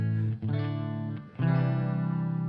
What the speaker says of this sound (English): And I kind of wanted chorus and reverb.